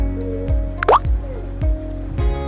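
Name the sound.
phone click sound, Innovex sound scheme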